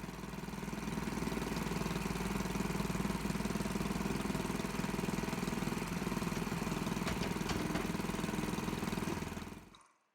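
A small farm loader's engine runs steadily while loading a hay bale wrapper with pallet forks, a constant loud mid-pitched drone that cuts off abruptly at the end.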